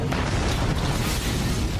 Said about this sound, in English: Investigator Charles Batten is certain he's uncovered the cause of the massive explosion in San Juan